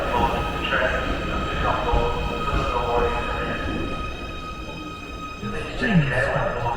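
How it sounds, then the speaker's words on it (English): A train rumbles into a Liverpool station with steady mechanical noise and faint squeals as it slows, close by, with a person talking over it. "Right, here comes the train."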